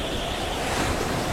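Stormy sea with heavy waves and wind, a steady broadband roar of surf and gusting air filling the whole moment, loud and continuous with no voices.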